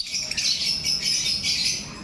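A bird for sale chirps in repeated high, bright bursts, fairly close, over a quiet low background with no talk.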